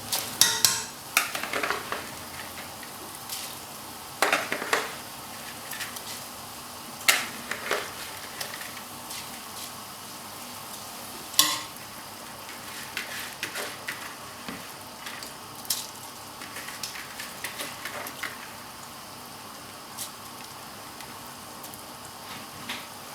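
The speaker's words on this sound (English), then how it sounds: "Okay, so we're ready to add the rice to it." Rice goes into boiling lamb stock for a lamb pilau and gets stirred, with scattered spoon-on-pot clinks and knocks over a steady bubbling hiss, close by and with no talking.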